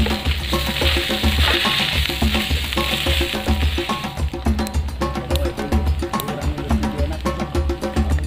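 Fried rice (nasi goreng) sizzles and crackles steadily in a hot pan, with rhythmic scraping and tapping of a spatula stirring throughout, loud and close with no voices.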